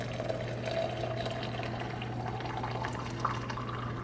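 Boiling water being poured from an electric kettle into a cup for tea, a soft steady liquid stream with a faint bubbling hiss over a low hum, quiet and close, with no talking.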